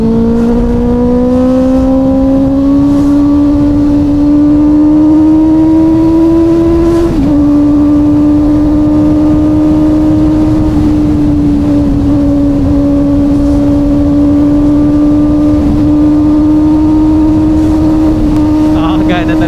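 A big bike motorcycle engine while riding on a road near Tagaytay, a loud close steady drone that climbs in pitch, drops sharply at a gear change, then holds on under wind rush and a rider's talk.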